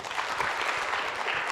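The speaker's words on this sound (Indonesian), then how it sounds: "Tepuk tangan." An audience claps at a talk, steady dense applause from many hands that fills the short moment without any voices over it.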